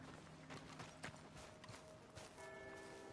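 Horse hooves clip-clop at a steady walking pace over a busy Red Dead Redemption 2 game soundscape, with faint tonal hums rising near the end.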